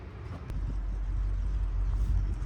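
A truck engine idles with a lumpy cammed lope, a steady low rumble close by, with no talk over it.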